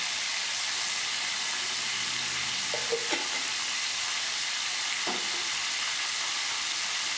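Cauliflower and potatoes being stirred and fried in a pan give a steady broadband sizzle throughout, with a few faint utensil scrapes and clinks.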